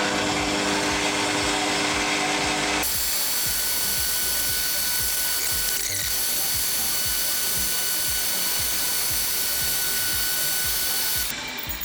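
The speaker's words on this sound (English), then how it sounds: "So I use a centre drill to mark out the points for the two rear holes" Centre drill spinning into a steel lathe toolpost to spot two rear hole positions, a steady whining machine hum with fine chattering cutting texture running throughout, close and loud with no talk.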